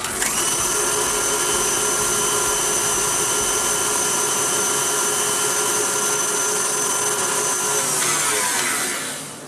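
An electric mixer whirs steadily through banana cake batter with vanilla and slightly lumpy butter, a loud, constant high motor whine that shifts briefly near the end before winding down.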